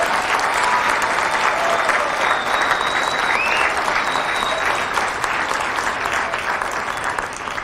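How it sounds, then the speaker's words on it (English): Loud, sustained applause from a big crowd at a Marine Corps recruit graduation ceremony at MCRD San Diego, a thick continuous wash of clapping with faint whistles rising above it. "please join me in a round of applause for the company staff of Company H"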